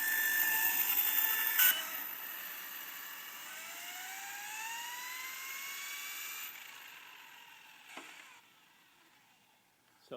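An OFNA GTP2e RC car with a Mamba Monster 2200kV motor on its first run gives a high whirring whine that sweeps upward in pitch, stays loud and then fades away, with a few sharp clicks near the end.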